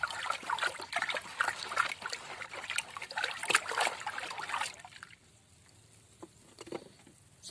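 Powdered fungicide being stirred into water for treating shallot crops, a steady wet pattering and swishing that runs for several seconds, then drops to quieter sparse splashes.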